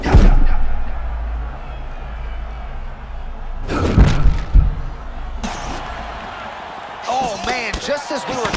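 A punch lands in an EA Sports UFC 6 fight between Dustin Poirier and Daniel Zellhuber: a sharp, heavy thud of impact followed by a few more hits. Excited commentators talk throughout.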